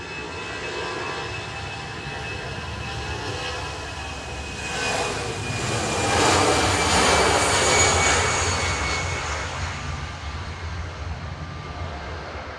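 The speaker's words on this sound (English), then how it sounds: "Lufty departing now to Munich, the APGP with flight 2503" A Lufthansa jet departs Manchester Airport for Munich, its engines roaring loudly and steadily, swelling to a peak midway and easing off as it climbs away; no talk.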